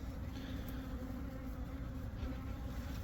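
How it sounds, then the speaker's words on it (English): Bees at a small beehive in the floor of a shed: a low, continuous, faint buzzing drone that holds steady throughout, with no voices. "Here we have the beehive, guys."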